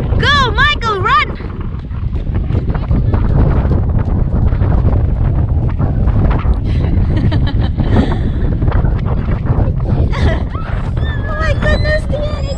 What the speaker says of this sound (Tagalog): Oh my goodness, Dion, it's so windy.